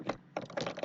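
Short, close clicks from a computer keyboard while a number is typed in, with a few quick keystrokes falling in two small clusters.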